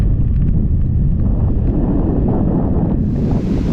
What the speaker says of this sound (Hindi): वेव्स तो कुछ ज़्यादा ही बड़ी है